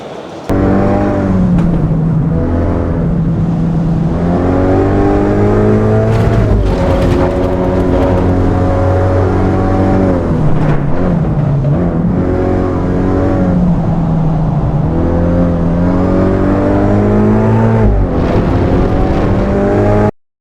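Continuous roar of race car engines in the video game Assetto Corsa EVO, revving and shifting, steady and loud throughout, with pitch rising and falling as gears change; no talking.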